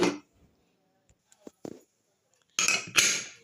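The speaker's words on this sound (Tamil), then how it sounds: "இப்போ நம்ம குக்கரை மூடி வேக வைக்க போகிறோம்." A pressure cooker lid closed over cooking lentils, with a few faint clicks followed by two loud, close metallic clanks and rattles near the end.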